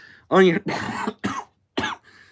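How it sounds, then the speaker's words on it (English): A few harsh, bursty coughs in quick succession, close to the mic, with short gaps between them and a brief throat-clearing at the end. "just still getting over a nasty cough"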